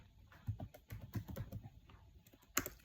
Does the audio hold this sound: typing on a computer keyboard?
yes